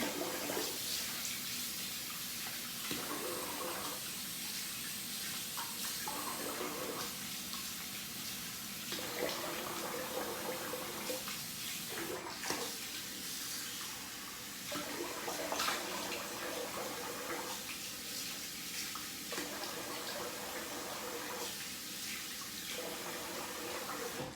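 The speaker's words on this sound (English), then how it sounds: "All right, gonna rinse the face here." Water runs steadily from a bathroom sink faucet while a face is rinsed, a continuous close rushing with rhythmic splashing dips as hands scoop and splash water, no talking.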